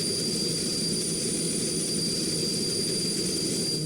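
A jet fighter rolling for takeoff in the Strike Fighters 2 combat flight game, a steady, loud engine roar with a high whine, unbroken and constant throughout.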